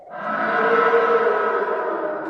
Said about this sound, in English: That's the sound of that famous abominable snowman, the Yeti, also named Harold.